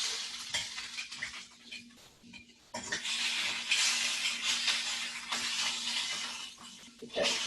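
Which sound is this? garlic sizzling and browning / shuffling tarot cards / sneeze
garlic sizzling and browning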